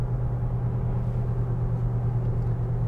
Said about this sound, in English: get it up above highway speeds and you start to feel slight vibration, a little bit of that tire drumming noise